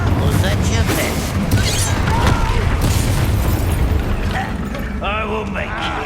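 The Confringo blasting curse in Hogwarts Legacy sets off a loud, continuous stretch of booming explosions and crashing combat noise, with voices heard near the end.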